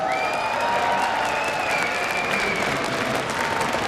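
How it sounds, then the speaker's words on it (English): A large crowd at the IEM Katowice esports event for League of Legends applauds continuously, a dense, steady roar of clapping with a high whistle running through it. "Amazing crowd, really,"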